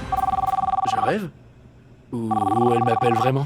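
An old-style telephone bell rings loud and close in two long trilling bursts, the rapid ringing pulses separated by a short quiet gap, with a voice briefly audible over the end of each ring.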